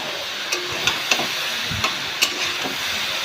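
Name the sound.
frying water lily stems in a wok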